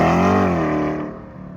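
A C8 Corvette E-Ray fitted with an AWE Track exhaust pulls away in a regular takeoff, a loud, close engine note that climbs in pitch and then fades as the car moves off.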